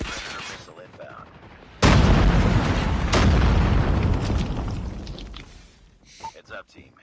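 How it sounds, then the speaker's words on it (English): Predator missile strikes explode in a first-person shooter match, with a sudden heavy boom followed by a long rumbling roar and a second blast, then fading debris and scattered sharp game sounds. "Friendly predator missile inbound."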